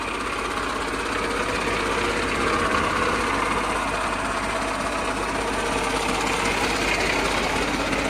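A New Holland tractor engine idles steadily and close, a continuous rumbling chug with a dense, even texture throughout, no voices.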